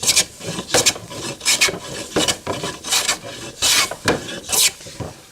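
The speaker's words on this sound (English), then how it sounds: "I love planing old weathered wood." A hand plane shaving old weathered wood in steady back-and-forth strokes, about ten rasping passes, loud and close with no talking.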